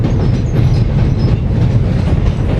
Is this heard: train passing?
yes